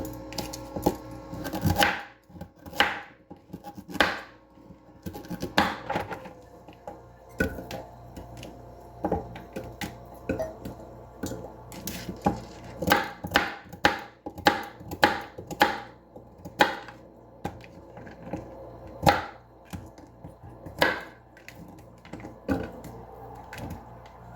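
Knife chopping big chunky carrots on a cutting board in a home kitchen, sharp irregular thunks coming in bursts and pauses, close and fairly loud, with a low appliance hum underneath.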